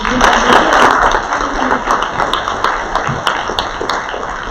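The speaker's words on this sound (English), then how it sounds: "let's give them a round of applause" Audience at the Sumter County Youth Employment Closing Ceremony applauding the program participants, a dense burst of clapping that starts loud and gradually thins over a few seconds, with scattered sharp individual claps.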